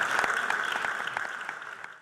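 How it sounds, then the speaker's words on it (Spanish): An audience at an ArteNativo arts event gives Antonio a round of applause: a moderate, even patter of many hands that fades gradually toward the end. "yo quiero un aplauso para Antonio"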